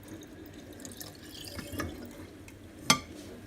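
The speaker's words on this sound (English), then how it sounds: "I'm just going to top that up with water." Tap water splashes and trickles into a vessel of kombucha to top it up, a soft running pour with a sharp clink of glass near the end.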